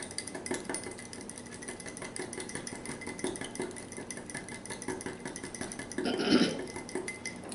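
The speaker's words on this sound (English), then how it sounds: "Found my little whisk," Homemade Italian salad dressing mix whisked in a pitcher, a steady soft metallic clinking and swishing throughout, nearby, with a brief louder knock near the end and no talking.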